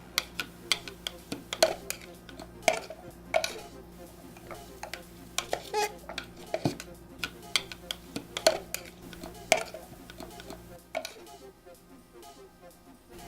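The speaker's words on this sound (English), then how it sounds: "So you spoon it out into your bowl." A spoon or spatula scrapes and clinks against a bowl while mashed cauliflower is scooped out, a series of sharp irregular metallic taps and scrapes, close and fairly loud.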